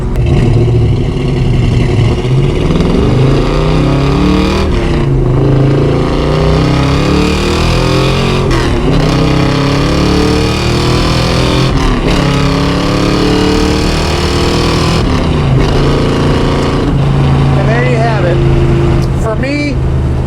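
A 1972 Ford Gran Torino Sport with a stroked 351 Cleveland V8 rumbles loudly and steadily, with rising and falling revs under continuous talking.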